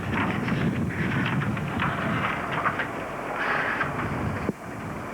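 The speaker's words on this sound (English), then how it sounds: "trying to block a little of the wind" Gusty wind buffets the microphone at an outdoor evening ceremony during a royal visit to Barbados, a steady low rumble that runs throughout and drops away abruptly near the end.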